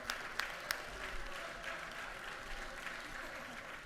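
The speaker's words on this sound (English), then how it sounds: "Let's give her a round of applause." Applause from the floor of the Georgia House chamber for Representative Donna McLeod, a steady patter of many hands with a few sharper claps standing out early, moderately loud and continuous throughout.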